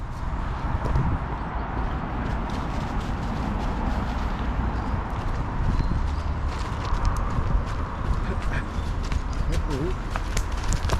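Hooves clip-clop as a horse walks along a footpath by the River Goyt in Stockport, a steady irregular thudding close by, heard under outdoor background noise with people talking.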